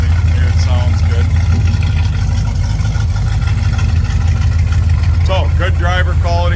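A 1967 Chevrolet El Camino's engine runs at a steady low idle throughout, a continuous deep rumble, close and loud, with a voice briefly over it near the end.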